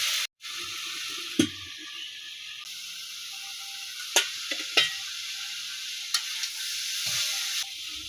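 Onion hits hot oil in a home kitchen pan and sizzles steadily while a spoon stirs it, with sharp scrapes and clinks of the utensil against the pan at intervals.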